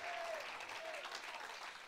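A church congregation claps steadily for about two seconds, a dense, soft wash of hands sounding somewhat distant and faint throughout.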